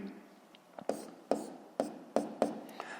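A pen writing an answer by hand on paper, close and quiet, with a run of short, distinct scratchy strokes tapping down in an uneven rhythm over soft rubbing.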